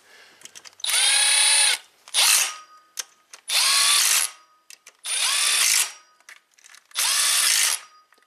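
An impact wrench drives bolts on a Toyota Prius engine during a head gasket repair, five close, loud bursts of whirring spin about a second each with short gaps and small clicks between them.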